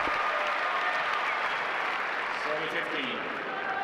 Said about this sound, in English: This crowd really starting to get louder and louder